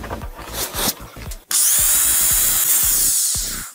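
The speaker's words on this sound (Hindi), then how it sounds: "तो होल करने के लिए हम इस तरह की ड्रिल मशीन" A handheld electric drill whines loudly and steadily as it bores a hole for a homemade water heater, preceded by a few scraping, rubbing handling sounds before the motor starts.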